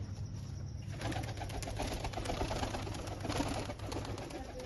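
Soft pigeon cooing and rustling against a steady low background hum, with faint fluttering now and then.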